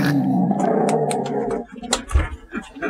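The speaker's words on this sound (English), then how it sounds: "That is my old Sharper Image radar watchdog and intrusion alarm." A Sharper Image radar watchdog intrusion alarm plays a loud recorded dog growl and roar, deep and continuous for about a second and a half, then breaking into separate snarling bursts.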